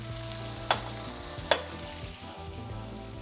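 A tablespoon of butter sizzles steadily in a hot frying pan with chicken for chicken piccata, a close continuous fry broken by two sharp clinks of a utensil.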